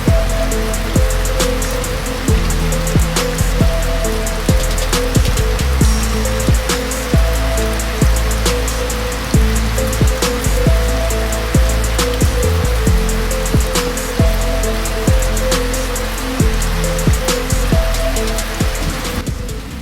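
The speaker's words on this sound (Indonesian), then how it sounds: "hujan deras yang mengguyur sejak subuh memperparah keadaan" Heavy rain pours steadily in Jakarta during a flood after a sea wall breach, a dense continuous wash with a rhythmic low thumping pulse running underneath throughout.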